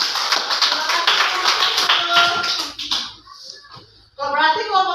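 Classroom of children clapping hands for a student group, a quick burst of dense, near applause that fades out, then a voice speaks over the last of it.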